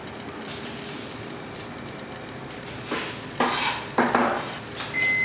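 A spoon scrapes and clinks against a pot while tomato soup ingredients with salt, pepper and basil are mixed, quiet at first and then growing into several louder metallic scrapes near the end.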